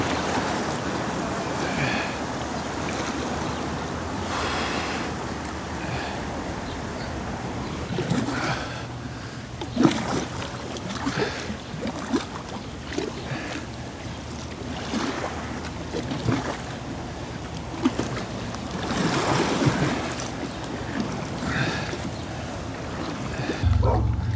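Water flows and laps around a kayak beneath a bridge on the Rahway River, a continuous wash with splashes and paddle strokes, with occasional wind buffeting close to the microphone.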